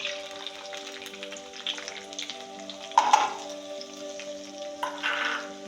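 Chopped onion frying with cracked cumin seeds in a pan, a steady close sizzle with occasional crackles and a brief stirring scrape, over a faint tonal hum.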